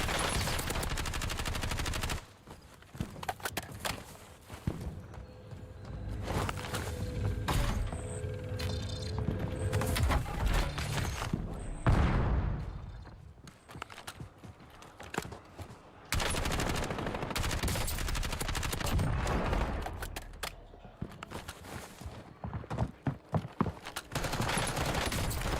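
Sustained bursts of automatic gunfire as a full magazine is emptied in the Black Ops 7 video game, loud and dense with brief gaps between volleys.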